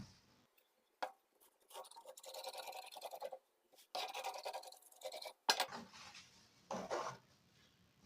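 Scissors cutting through work-blouse fabric at the center, quiet intermittent snipping and scraping strokes in short bursts with pauses between them.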